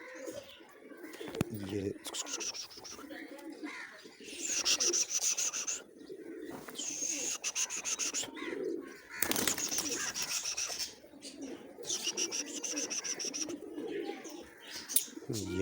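Pigeons coo in soft, repeated bursts around a newly caught black pigeon, close by, while someone talks over and between the calls and faint rubbing and chirps come and go.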